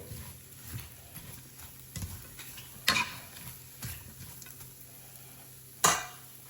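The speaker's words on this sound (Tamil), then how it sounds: "இதை நாங்கள் பிரட்டி போட்டு அடியில் அடி பிடிக்காமல் நல்லா பிரட்டி கொண்டு நின்றுட்டு" Mutton fried rice is stirred and turned in a pan, giving a soft, quiet sizzle broken by scraping strokes and a few sharper clinks of the utensil against the pan.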